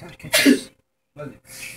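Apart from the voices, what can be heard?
sneeze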